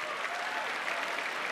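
A big hall audience claps steadily through the host introductions at the New Wave 2012 contest opening, a continuous wash of hand claps with no speech over it.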